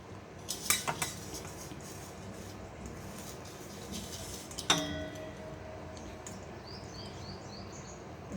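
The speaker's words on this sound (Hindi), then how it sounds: "चम्मच के मदद से इसको निकाल लीजिए।" A metal spoon scrapes and clinks against the hard shell of a bael fruit while scooping out the pulp, with a few sharp taps early on and another near the middle, quiet and close with no talk.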